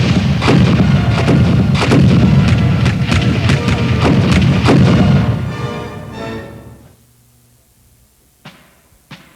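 Warships of British and opposing squadrons fire broadsides at close range, a dense, loud rolling barrage of cannon booms that fades into quiet after several seconds, then two sharp isolated reports near the end.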